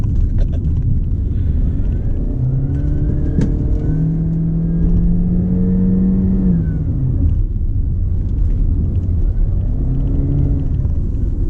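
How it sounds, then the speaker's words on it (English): A Honda CR-V 1.5 turbo AWD engine rumbles under hard uphill acceleration, with a rising, sustained CVT whine running over the drone for several seconds, then easing off. "you do get a little bit of sound from the CVT. There's a kind of a whining sound that comes on"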